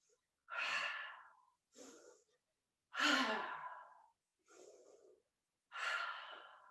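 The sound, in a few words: breath of joy yoga breathing exercise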